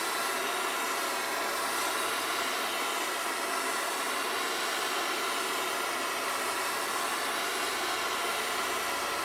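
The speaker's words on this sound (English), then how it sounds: "I'm going to anneal this 12 thousandths thick brass by heating it with a Burnsmatic to a dull" A Bernzomatic torch heats thin sheet brass, twelve thousandths thick, to a dull red to anneal it. The flame gives a constant, loud, even hiss-roar that runs unbroken throughout.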